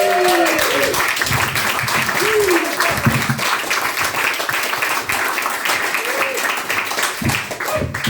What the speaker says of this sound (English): Warm round of applause for Ailes McCarthy, everybody!